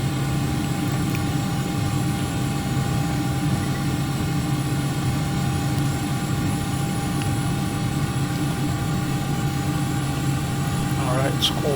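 A Hawker 850XP business jet taxis in the Prepar3D flight simulator, with a loud, steady engine whine and hum that runs unbroken throughout under a faint tonal ringing.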